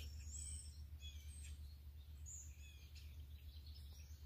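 Faint, distant birdsong in a backyard, with scattered high chirps and short whistled phrases over a low steady background hum.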